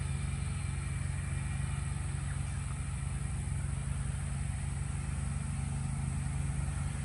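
Somewhere behind the woods near a house, a tractor or lawnmower mows at a distance, a faint, steady engine drone that holds the same pitch throughout with no voices.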